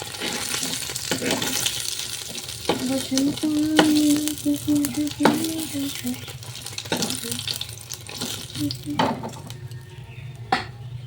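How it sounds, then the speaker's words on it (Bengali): Potatoes frying in oil in a home kitchen give a steady sizzle, broken by clattering stirs and knocks, with a tonal whine or squeak in the middle and a voice speaking briefly underneath. "এই তেলটার মধ্যে আলুগুলো দিয়ে দিব একটু ভাজি করে নিই"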